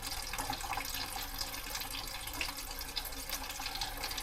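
Hot water runs steadily from a tap in a small cabin, a continuous close hiss and splash of flowing water with no talk over it.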